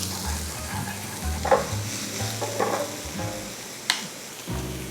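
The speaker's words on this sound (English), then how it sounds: "we want to stir fry them over medium heat until fragrant for about 2 minutes." Chili peppers stir-frying in a pan over medium heat for a bok choy dish, a steady sizzle with occasional scraping stirs and clinks of the utensil, close and alone.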